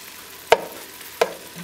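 Diced ham dropped into a pan of sizzling onions for corn chowder, two distinct clattering hits over a faint steady frying hiss.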